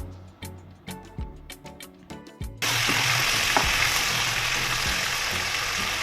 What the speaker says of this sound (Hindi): सारे अदरक लहसुन का पेस्ट ऐड करने के बाद हमने इसको भी अच्छे से फ्राई कर लेना है